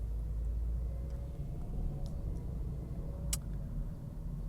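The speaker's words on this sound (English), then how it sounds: "Dealing with the morning traffic." Morning road traffic, with cars passing, makes a steady low rumble and wash that holds at an even level throughout, with a faint tick or two near the end.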